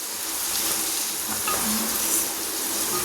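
Onions and cumin sauté in a pan for a chicken gravy, a continuous close frying hiss with soft faint scrapes and no talking.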